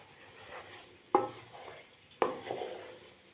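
Palak paneer gravy being stirred in a pan after spinach paste goes in, with two sharp utensil knocks against the pan and a soft background hiss between them.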